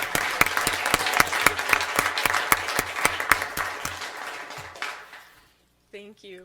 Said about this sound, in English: How about a round of applause for Elaine?